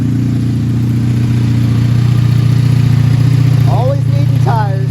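A 1984 Honda V65 Sabre VF1100S motorcycle idles after a cold start, its engine giving a loud, steady, close throb throughout, with a few brief higher sounds near the end.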